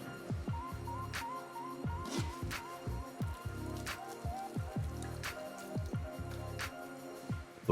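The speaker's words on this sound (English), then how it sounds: "Now let's add the chickens into this bechamel sauce and mix thoroughly." Chicken pieces folded by hand into a thick béchamel sauce for Turkish Elbasan tava, giving close, wet squelching and sticky dripping sounds in an irregular rhythm with small clinks, with no talking.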